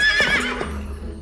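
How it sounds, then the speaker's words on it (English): A cartoon horse gives a short, bright neigh that falls away into a fading whinny, clear and close with no voices over it. "A horse!"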